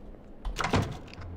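A door sound effect plays in a mansion level of a horror game under development, a short mid-loud creak and thud after a quiet lead-in.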